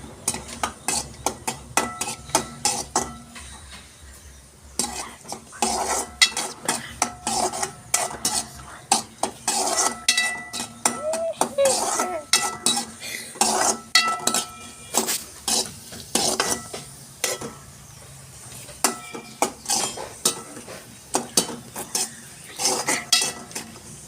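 Cashews and cardamom fry in hot ghee while a spoon repeatedly scrapes and clinks against the pan, with a soft sizzle beneath the steady rhythmic stirring.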